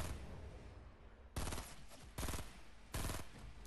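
Three loud, close bursts of rapid automatic gunfire in the video game Fortnite, each lasting under a second, over a steady wash of game noise.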